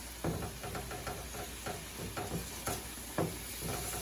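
Honey butter glazed chicken thighs sizzle in a pan, a soft continuous fry hiss broken by small taps and pops as the pieces are turned, fairly quiet and without speech.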